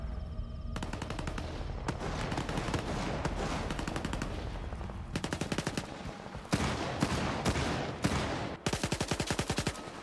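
S.T.A.L.K.E.R. 2 gunfire: rapid automatic bursts rattle out in several separate runs, loud and close, with brief gaps between volleys and no talk.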